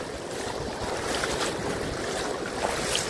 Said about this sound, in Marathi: हे बघा आता भरती चालू झाली आहे, त्याचं पाणी येत आहे